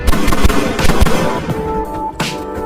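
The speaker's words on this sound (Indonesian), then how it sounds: "Ternyata itu adalah tembakan dari David yang berhasil melepaskan diri" Several sharp, loud bangs in quick succession with echoing rumble, like gunfire in an action scene, followed by a brief dying ring.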